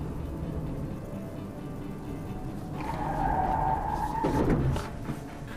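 A crossover car loses grip and skids into oversteer during a braking and control test, its tires squealing in a sustained shrill tone that swells, then sweeps downward over steady engine and road rumble, fairly close and loud.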